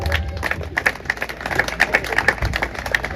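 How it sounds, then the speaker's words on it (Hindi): A crowd claps in welcome as speakers are called to the stage at a farmers' organisation rally and anniversary gathering, a dense patter of hands heard fairly close and continuing throughout. "इका मन के ताली के साथ स्वागत करो"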